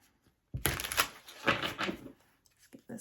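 A deck of tarot cards being riffled and shuffled up close, two quick bursts of crisp fluttering slaps with a brief clatter at the end.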